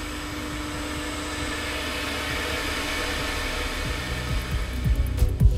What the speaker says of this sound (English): In case a sudden fault is developing in the process, like this low flow cavitation example, we will make sure to notify you as soon as possible.